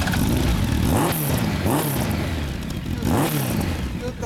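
A 1998 Honda Super Four 1300 motorcycle with a heavily customised build and a Yoshimura exhaust revs repeatedly, its engine note rising and falling in loud, close swells over a steady idle rumble.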